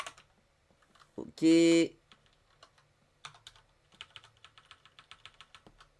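Keys clatter on a computer keyboard in a quick run of light clicks, with a loud sustained electronic tone early and a brief spoken word.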